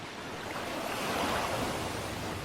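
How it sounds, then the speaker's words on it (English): Wind-driven waves on Lake Hunker wash against the sandy shore in a continuous rushing surge that swells slightly midway, with wind noise blended in and no voices. "As waves hit the western edge, they surge over the sandbanks."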